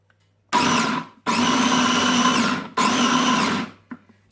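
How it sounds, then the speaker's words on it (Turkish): An electric food processor chops garlic cloves and tomatoes in three loud whirring bursts, each about a second or more long, separated by short pauses, with a faint clunk at the end. "Şimdi bunları güzelce robottan kıyacağım arkadaşlar."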